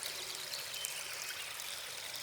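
A river stream flows with a continuous, even rushing hiss that stays quiet and steady throughout, with no voices.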